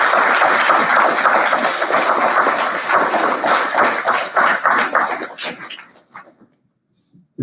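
Dense applause from the audience at a graduation ceremony, sustained and loud, then thinning into scattered claps before dying away to near silence.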